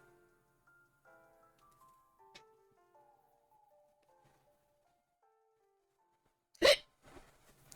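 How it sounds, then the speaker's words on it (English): A single sharp, close hiccup bursts out loudly near the end after several seconds of faint tonal background, followed by a brief breathy trailing sound. "Oh, fucking hiccups."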